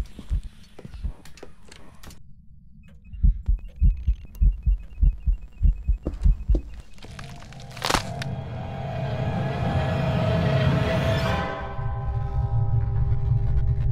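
In a ghost-hunting video game, a heartbeat thumps in a rapid, regular run of deep pulses, then gives way to a rising, swelling rush of eerie noise. Nobody speaks.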